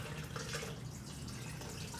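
Water runs into a pot for a pumpkin carrot soup, a short, faint, steady rushing pour with no speech.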